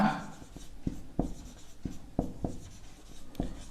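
Pen strokes on paper while a solution to a cone's total surface area problem is written out, a series of short, distinct scratches and taps at an irregular pace, close and fairly quiet with no talking.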